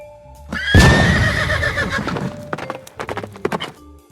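A horse whinnies loudly and close, a long rising-then-falling neigh, followed by snorts and a few hoof clops toward the end.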